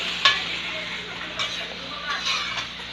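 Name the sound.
stirring potatoes and carrot in a pan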